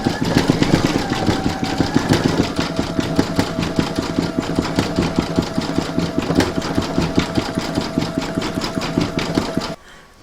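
An embroidery machine stitching a coaster design in red thread, a fast even mechanical chatter with a whirring motor, close and loud, running steadily until it stops near the end.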